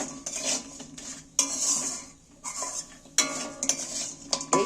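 A metal utensil scrapes and clinks against a pan while sweet and spicy Korean chicken is stirred, in several bursts separated by short pauses, close and clear.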